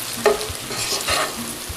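Okra with green chilies fries in a pan while a spoon stirs it, making a soft sizzle with a few light scrapes and knocks at an unhurried pace, and no one talks.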